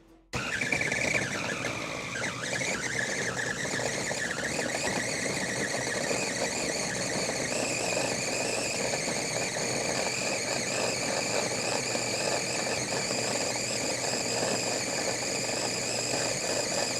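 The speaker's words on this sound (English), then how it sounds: "let's grind some more meat" A meat grinder in a cooking video game runs continuously, a loud, steady mechanical whine and squeal with rough grinding texture that starts abruptly and holds for the whole stretch, with no voices.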